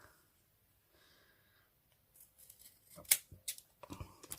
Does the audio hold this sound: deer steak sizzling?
no